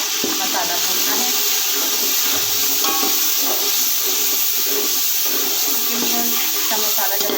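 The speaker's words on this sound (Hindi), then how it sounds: "अच्छे तरीके से हमने इसका मसाला भूनना है" Masala with onion and tomato fries in a pan, a steady close sizzle with occasional stirring clinks, while someone talks intermittently over it.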